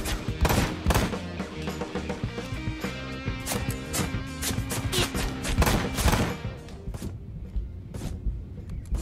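Dense, loud bursts of automatic gunfire and rapid shots from a Ride to Hell: Retribution gunfight, overlapping in a near-continuous fusillade with heavy thumps, no voices.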